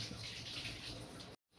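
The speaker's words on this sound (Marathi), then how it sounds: "आता आपण याच्यात आपल्याला अजून थोडं पाणी घालायचं आहे" Water pours steadily into a pot of tomato, carrot and beet soup, a soft, even gush heard close but quietly, and it stops abruptly near the end.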